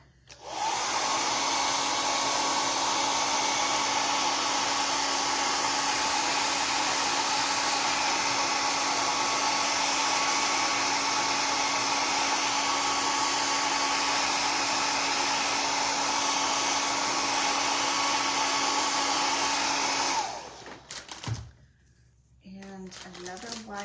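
Handheld dryer blowing on a painted highland cow craft piece, a loud, close, steady roar for about twenty seconds before switching off, leaving quiet handling sounds.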